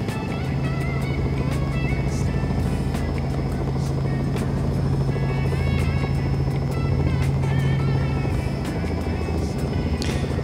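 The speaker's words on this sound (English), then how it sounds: "they are going to do a touchdown for the helicopter on the helipad" A helicopter touches down on a helipad at Victoria Falls, its loud, steady rotor and engine drone close by and continuous throughout, with faint intermittent clatter and no clear talk.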